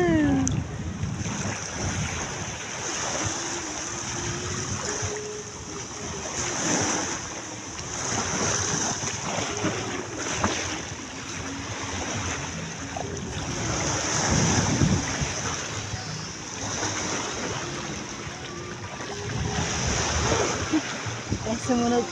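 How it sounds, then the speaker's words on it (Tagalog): Strong sea waves breaking at a beach in Tanza, Cavite, a continuous rolling surf roar with heavy wind buffeting the microphone and some voices mixed in. "Lakas ng alon ng dagat."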